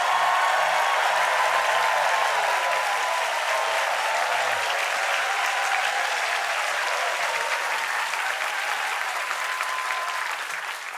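A late-night TV studio audience bursts into loud, sustained applause, a dense wash of clapping and some cheering that holds steady for about ten seconds before starting to fade.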